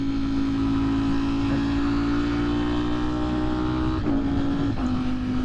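Engine note of a motorcycle out on a ride, a loud, steady droning hum that rises slowly in pitch with a couple of brief shifts near the end, heard close up without talk.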